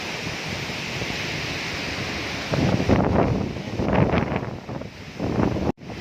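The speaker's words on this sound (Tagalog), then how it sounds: "Pero ang lakas ng hangin." Strong gusty wind roars across the summit of Bongao Peak in Tawi-Tawi, Philippines, buffeting the microphone in steady broadband rushes that swell and ease, with no talking.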